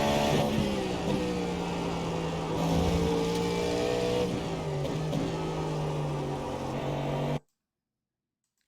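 A Cadillac V-Series.R GTP race car in iRacing at Road Atlanta, its engine droning loud and steady with rising and falling pitch through gear changes, continuous until it cuts off abruptly near the end.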